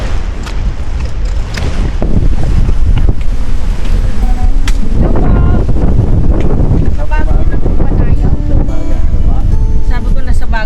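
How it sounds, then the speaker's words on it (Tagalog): Strong wind buffets the microphone outdoors at a cold mountain campsite on Mt Banoy, Batangas, with gusty roaring rumble throughout and voices talking beneath it. "Tapos sobrang mahangin pala dito."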